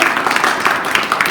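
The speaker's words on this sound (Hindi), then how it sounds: "तो सर के लिए एक तालियां" Audience applause for a teacher at a school Matribhasha Diwas celebration in Khairagarh: a dense, steady patter of many hands clapping, fairly loud and close, with no break across the short burst.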